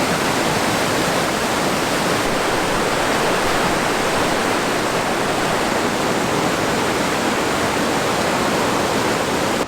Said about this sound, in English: it's the upper falls as the river is going from south to north